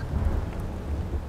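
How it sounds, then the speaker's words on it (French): Steady rain patters softly with a low rumbling undertone, faint and continuous, with no voices, in an animated cartoon. "Il commence à pleuvoir."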